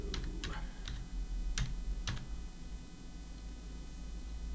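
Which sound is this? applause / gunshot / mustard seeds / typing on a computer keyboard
typing on a computer keyboard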